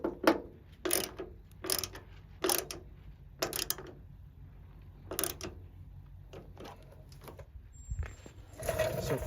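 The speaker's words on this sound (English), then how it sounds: "I'll use my other ratchet to install it" Hand ratchet tightening a tailgate shock bolt on a Ford Maverick truck, a series of quick clicking bursts repeated in short strokes with pauses between, close and fairly clear.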